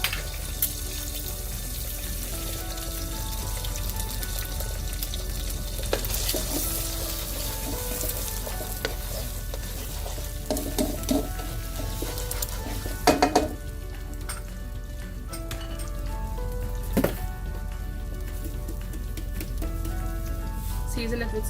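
Five eggs scrambled on low heat in a frying pan while making shrimp egg lo mein with broccoli: a continuous close sizzle broken by scattered clinks and scrapes of stirring.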